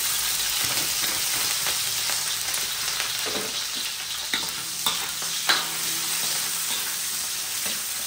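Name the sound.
onion and garlic frying in a pan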